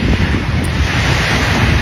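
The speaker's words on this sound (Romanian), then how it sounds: "În spate mai e marea." Sea waves on a beach, a loud continuous wash of surf blended with heavy wind buffeting the microphone, with no voices.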